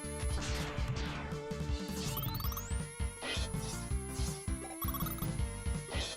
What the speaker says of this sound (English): I like how these gates, when they close, they sound like a goddamn cymbal being choked